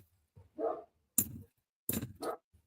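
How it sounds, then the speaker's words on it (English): A neighborhood dog and others bark in a few separate bursts, sharp yaps and woofs spaced apart with quiet gaps between, moderately close and clear, no voices over them. "Probably hear the dogs barking now."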